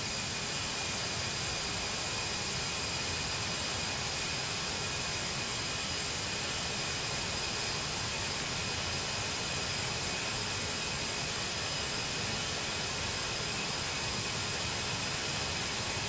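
Steady, loud roar and hiss of a jet engine heard from near the intake in the Prepar3D flight simulator, with a high whine running unbroken throughout and no talk.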